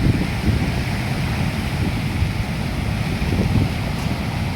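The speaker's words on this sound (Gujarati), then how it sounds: "મચ્છુ નદી જોરદાર વહે છે રે." The Machchhu river near Morbi runs in flood after heavy rain, its surging water making a loud, unbroken broadband rush that stays steady from start to finish, with no voices.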